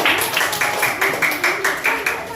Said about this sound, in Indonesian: Silakan tepuk tangan dulu untuk kelompok Lang.